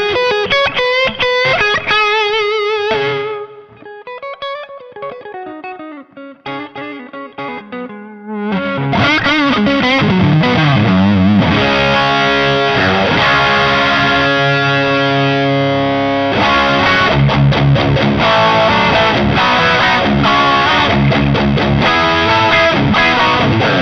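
An electric guitar plays through a Ninevolt I Was A Wolf In The Forest distortion pedal, starting with sparser notes and then settling into loud, sustained, saturated chords that ring out with a gritty edge.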